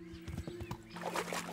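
A horse in the Kingdom Come Deliverance video game clops its hooves in a quick rhythm, then gives a loud whinny.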